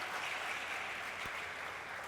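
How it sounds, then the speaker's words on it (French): An audience applauding at a pageant show, a steady wash of clapping heard at moderate distance, fairly faint and even throughout with one sharp knock partway through. "On les applaudit très fort"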